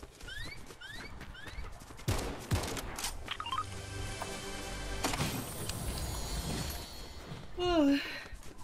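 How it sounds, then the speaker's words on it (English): Fortnite gunfire bursts in a busy game scene, with sharp repeated shots clustered around the middle amid electronic effects, chirps and background game sounds, while people talk over it. "I see a shooting over here"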